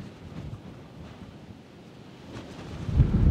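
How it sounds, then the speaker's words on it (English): Strong wind gusts buffet the microphone in the open courtyard of a ruined old castle in South Wales, a low rumbling roar that swells louder toward the end, with no voices. "Ooh, it's windy."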